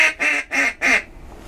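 Ducks circling over water during a duck hunt give three close, loud quacks in quick succession, then fall quiet.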